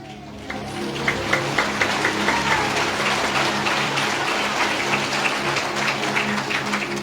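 A congregation at a church service applauds in a sustained, even wash of clapping, with a few sharper claps standing out, over a low steady hum in the room.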